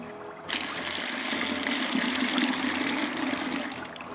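Freshly squeezed lime juice, 40 centilitres, poured for a Halloween Zombie cocktail: a steady, close liquid stream that starts abruptly and runs without a break for about four seconds, with no talking.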